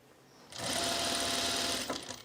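A sewing machine stitches a dress hem in one continuous, fast whirring run of about a second and a half, close and steady, stopping abruptly, with no talk over it.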